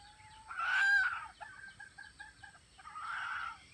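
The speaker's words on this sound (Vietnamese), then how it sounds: "Đây con gà rừng này. Anh em thấy không? Nhìn gà rừng." A jungle fowl, kept tame on a Vietnamese rural farm, gives a loud nearby crow followed by a run of short clucks and a second softer call, with no talk.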